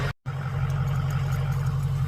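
A Ford 6.0 diesel truck with a Titan turbo idles steadily after startup, a loud, even low rumble broken by a brief dropout near the start, with no talking.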